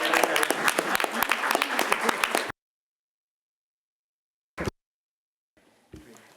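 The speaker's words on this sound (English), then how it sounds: "Thank you for your applause." An audience at a town hall meeting with the mayor bursts into loud, dense applause that fills the first couple of seconds and then stops abruptly, followed by near silence with one brief knock and faint room noise.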